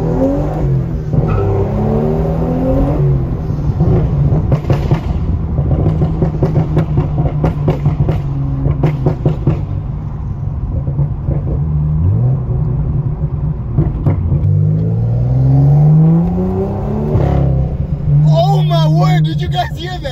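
A loud, raspy straight-piped exhaust on a BMW M2 roars and crackles as the engine revs up and down repeatedly while driving, with a voice talking over it at times.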